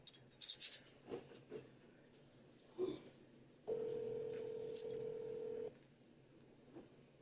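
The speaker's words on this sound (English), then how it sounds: "it's just ringing now. The other phone just ringing." A phone line tone sounds steadily for about two seconds, moderately loud, after scattered faint clicks and rustles, then cuts off, leaving quiet room noise.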